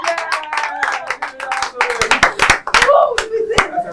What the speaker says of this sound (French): Merci, on l'applaudit.